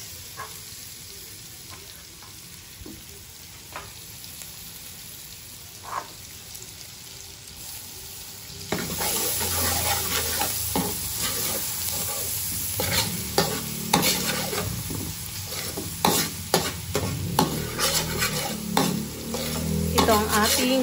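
Three heads' worth of garlic hit a hot pan and burst into loud, crackling sizzle partway through, after a quieter stretch. Scraping stirs and sputtering pops continue over the steady frying hiss.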